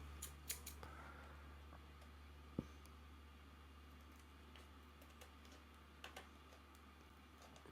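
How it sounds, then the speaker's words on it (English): Faint snips of scissors cutting along the glue line of a stiff plastic graded comic book case, a few scattered clicks over a low steady hum, quiet and close. "So you take your scissors,"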